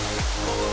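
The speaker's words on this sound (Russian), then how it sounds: "А волны такие мягкие-мягкие." Soft sea waves wash onto a beach in Bali, a steady broadband rush of surf that stays close and fairly loud throughout the short stretch, with no voices over it.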